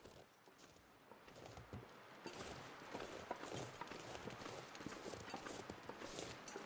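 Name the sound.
footsteps in the video game The Long Dark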